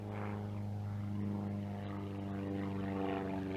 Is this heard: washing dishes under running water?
no